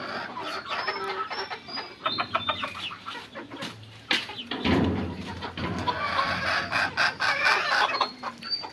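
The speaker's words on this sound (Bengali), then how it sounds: "ডিম পারলো এই যে মুরগিটা" A hen clucking loudly and insistently after laying an egg, close by in a poultry shed, with repeated rhythmic cackles and other chickens and birds calling around it; no talking.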